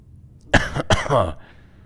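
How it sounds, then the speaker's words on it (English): A single person's cough, two sharp close bursts followed by a rougher, throaty tail like a throat clear, loud against a quiet room. "My cough is getting slightly better."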